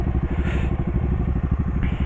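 A Bajaj Dominar motorcycle runs nearby with a loud, rapid, pulsing engine chug, its even throbbing beat continuing steadily from start to finish.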